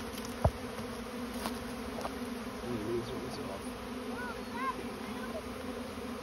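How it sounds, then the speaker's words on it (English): Masses of swarming honeybees hum near a bait hive in a continuous close drone, broken once early by a sharp click. "Oh, now there's a whole bunch of bees."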